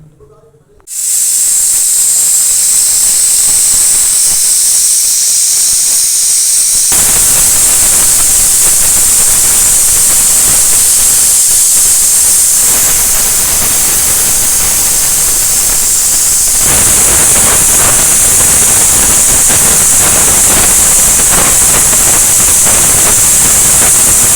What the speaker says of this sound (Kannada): ಮೂರರಿಂದ ನಾಲ್ಕು ವಿಸಿಲ್ ಬರಲಿ